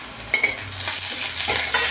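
Green chili added to onions already softening in hot oil for a Bengali cabbage chorchori, giving a steady close sizzle with stirring scrapes and a few brief clatters, no talking.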